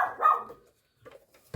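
A dog barks indoors in a room where paper craft work is going on, a loud burst at the start and then a softer second bark after a pause, with one more abrupt sound at the very end.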